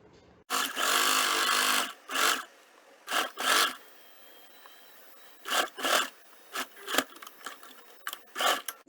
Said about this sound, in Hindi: और इसके बाद इसकी स्टिचिंग करेंगे।